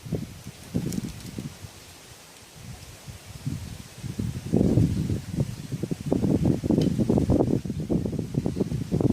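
Strong wind gusts through a garden where bromeliads are growing, rustling leaves in uneven bursts that swell louder partway through and keep on near the microphone with no voices.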